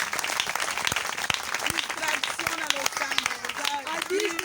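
A church congregation claps together while a voice carries on over the clapping, which is moderately loud and continuous with sharp individual hand strikes standing out.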